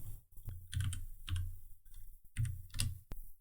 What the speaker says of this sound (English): I'm going to type in marble